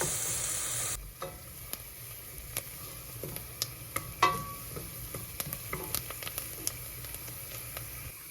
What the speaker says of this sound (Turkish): Soğanımızı ve sarımsağımızı güzelce kavuruyoruz.